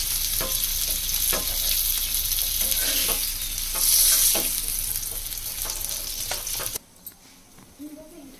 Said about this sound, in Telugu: ఇవైతే మంచిగా ఫ్రై అయిపోయినాయి.